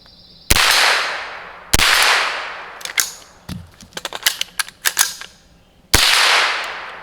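A rifle fitted with a .22 conversion kit fires several sharp close shots, a few single cracks spaced apart with a quicker string of lighter pops and metallic clinks between them.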